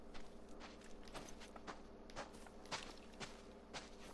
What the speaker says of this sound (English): Well, that sounds like a bear.